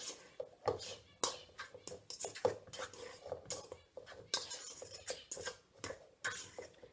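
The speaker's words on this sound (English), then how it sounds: "I'm going to just keep mashing really well with my fork" A fork mashes cooked potatoes in a bowl for tattie scones, making irregular soft scraping and clinking strokes against the bowl, close and fairly quiet, with brief pauses between bursts.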